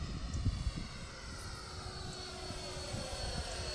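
FMS F-16 Thunderbird 64mm RC electric ducted-fan jet on a slow high alpha pass at light throttle, a steady whooshing whine that carries faintly from a distance across the field.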